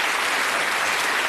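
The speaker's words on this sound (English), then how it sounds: "Round of applause." Studio audience at a darts game show giving a dense, loud burst of applause, an even roar of many hands clapping with no gaps.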